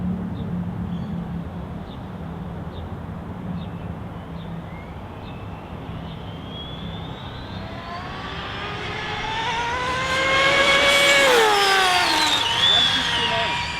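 A car drives down a track, its engine rising steadily in pitch as it accelerates and comes closer, ending in a loud whining rev, with people talking over it.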